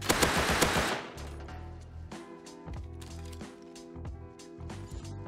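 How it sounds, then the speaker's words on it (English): Gunfire in Rust, an opening burst of loud noisy blasts followed by a series of sharp, evenly spaced shots over a low mechanical hum, moderately near. "Oh my god, I'm getting shot from everywhere."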